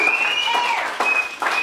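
Church congregation clapping during a Sunday service, a fairly strong spread of applause that dips twice, with a sustained tone and a short vocal sound sitting over the clapping.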